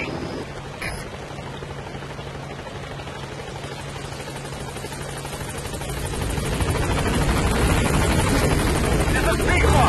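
The Pequod helicopter in Metal Gear Solid V approaches the landing zone, its rotor drone rising steadily and growing louder over ten seconds, with a radio voice speaking over it.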